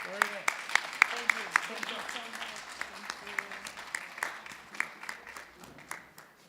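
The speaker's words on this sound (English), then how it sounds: "Let's give them a round of applause." Scattered applause from a crowd, sharp individual claps rising and falling over several seconds, with some voices and musical tones mixed underneath.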